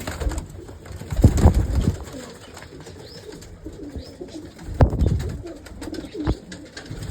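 Pigeons coo in low, throaty bursts inside a bird shop, with a few louder close calls over a steady background of softer cooing and some faint rustling.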